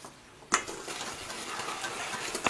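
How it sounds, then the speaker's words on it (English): Oil, vanilla extract and sugar whisked together in a bowl: a quiet, steady scraping and swishing that starts with a sharp clink against the side and continues evenly. "Now we're going to whisk this all together."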